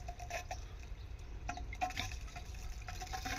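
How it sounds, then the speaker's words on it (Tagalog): Water running out of a pressure tank on a water pump system, a steady low hiss and trickle with faint drips, quiet and continuous. "tubig na po yan ay galing dito sa may pressure tank"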